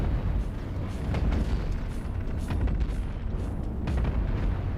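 Flat ship cannons in the space game Cosmoteer fire repeatedly, producing a series of booming blasts and bursts at irregular intervals over a dense rumbling background, fairly loud and without talk.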